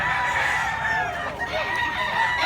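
Chickens and roosters cluck and crow as a continuous busy chorus at a crowded spot in Mantalungon, Cebu, several birds calling at once over a dense, steady background.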